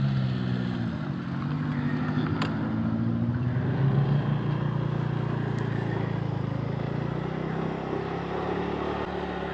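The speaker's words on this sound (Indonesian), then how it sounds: "ini ada mobil" A car rolls past on a narrow hill road through a village, its low engine drone rising and falling close by as it squeezes through, steady for several seconds with no talk over it.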